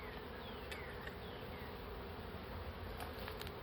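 Honeybees buzz steadily and densely throughout a hive inspection, a close, continuous drone with no talking.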